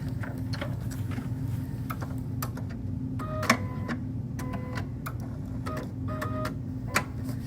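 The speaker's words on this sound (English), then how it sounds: "I'm going to sew 1/8 of an inch all the way across" A sewing machine stitches quilt binding in rapid bursts of even mechanical ticking, close and moderately loud, with short pauses between runs over a low steady motor hum.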